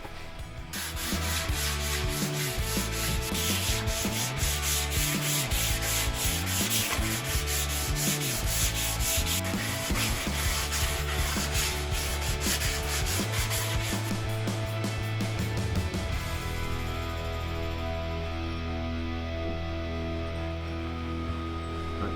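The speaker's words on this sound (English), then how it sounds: "fine sand it till probably about 320 before we do the finish" Wooden body of an LP kit guitar being sanded by hand before finishing, long continuous rhythmic rubbing strokes, close and steady, changing tone near the end, with no talking.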